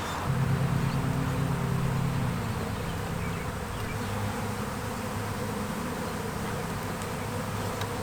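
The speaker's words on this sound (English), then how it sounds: "Bees that are in there will basically just stay in there." Dense, continuous buzzing of many bees from a captured swarm inside a closed hive box, close and steady, with a low droning hum throughout.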